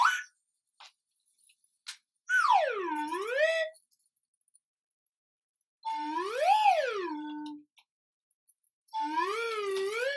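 A slide whistle swoops down and back up in three separate sliding tones, each a smooth wavering glide, with pauses of silence between them.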